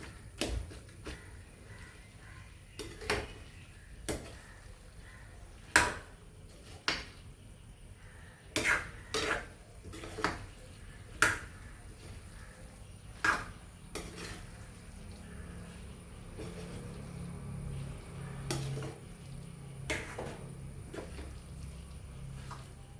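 Dried tapioca mashed by hand in a small vessel, giving a dozen or so sharp knocks and scrapes against the pot in an irregular rhythm, close and moderately loud, followed by quieter steady rustling.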